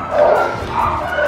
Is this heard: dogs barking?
yes